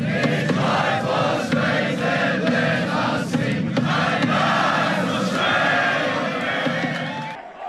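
A large crowd of protesters marching toward the Shrine of Remembrance, a dense continuous roar of many voices with scattered shouts and chants close by, holding steady before cutting off abruptly at the end.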